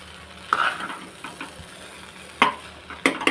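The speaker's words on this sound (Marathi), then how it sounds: "कोथिंबीर पण चांगली मिक्स करायची" Coriander leaves being stirred into pea and paneer masala rice in a pan, with a few soft scraping strokes and light sizzling, one near stir around the middle and two more toward the end.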